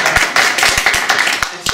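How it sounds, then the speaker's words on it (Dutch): A small audience at a Friday-afternoon workshop on the future of work claps briefly, close and fairly loud, a short burst of uneven hand claps. "een applaus voor jullie zelf"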